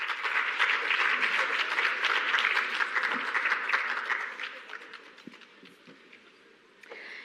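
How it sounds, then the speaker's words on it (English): Audience applause at a climate resilience symposium for a panel, a loud, dense burst of clapping that fades gradually over several seconds into a quieter tail. "A round of applause,"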